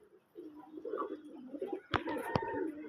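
Domestic pigeons kept in a cage coo softly in low, rolling phrases, fairly faint and close, broken by two sharp clattering knocks near the end.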